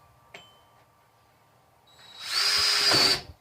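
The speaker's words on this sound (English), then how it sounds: "And then you want to drill your hole." A power drill fitted with a hole saw bites into a plastic barrel, a brief click followed by a loud, high whining grind lasting about a second and a half before stopping abruptly, close up and alone.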